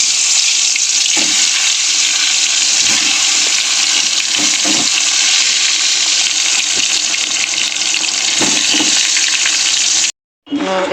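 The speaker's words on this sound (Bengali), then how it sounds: "ভাজাগুলো নুন হলুদ মাখিয়ে নিয়েছি, এবার ভেজে নেবো এক এক করে সব ভাজাগুলো" Vegetables coated in salt and turmeric frying in oil make a loud, continuous sizzle with occasional stirring knocks, ending abruptly in a short pause before the sizzle resumes.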